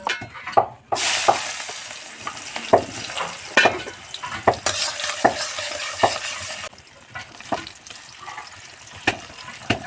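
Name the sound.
mixed vegetable fry cooking in a wok over fire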